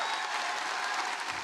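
A large crowd at a Harvard commencement applauds the university president, with dense, sustained clapping at a steady level that sounds somewhat distant and washed.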